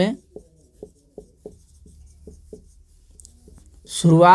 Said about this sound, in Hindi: हम लिख दे रहे हैं